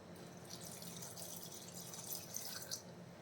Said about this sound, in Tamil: சேர்த்துட்டு கொஞ்சம் தண்ணி சேர்க்கணும்.